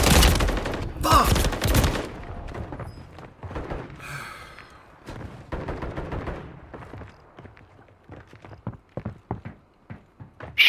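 Video game gunfire in irregular shots and short bursts, loud at the start, then sparser and quieter pops spread across the rest, with no speech.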